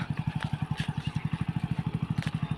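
A motorcycle ridden slowly by a first-time rider putters at low revs, a steady rapid pulsing thump of the engine close by, with faint background noise and no speech.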